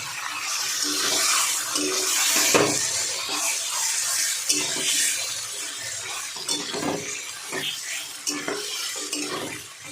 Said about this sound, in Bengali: এই মশলার বাটিটা দিয়ে একটু জল দিয়ে দেবো, একটু মিশিয়ে নেব, তারপরে জলটা দেবো।